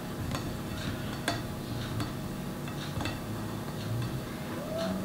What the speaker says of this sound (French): je viens bien racler les bords